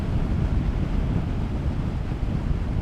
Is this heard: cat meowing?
no